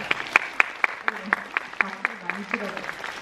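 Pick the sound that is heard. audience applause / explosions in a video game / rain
audience applause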